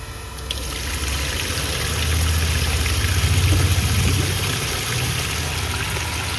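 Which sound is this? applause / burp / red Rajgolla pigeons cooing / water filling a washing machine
water filling a washing machine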